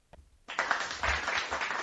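Canned clapping sound effect dropped into a women's college basketball podcast, bursting in after a brief quiet start and holding as a steady, dense wash of applause to the end.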